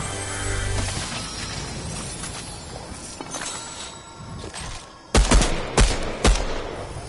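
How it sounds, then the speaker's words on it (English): Gunfire in a Fortnite squads match: several sharp shots ring out near the end, loud and close, over a busy game soundscape. "I hear gunfire."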